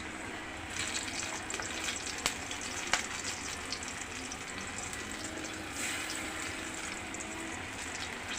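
Pumpkin pieces dropped into hot oil for fritters on a rainy evening, giving a steady, fairly soft sizzle and crackle with a few sharper pops scattered through, heard alone without voices.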